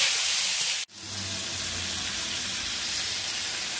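Lamb stir-frying with soy sauce in a wok, a steady bright hiss and sizzle that cuts out for an instant near the start, then resumes evenly, close and without talk.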